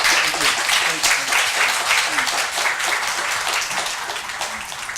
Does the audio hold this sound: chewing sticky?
no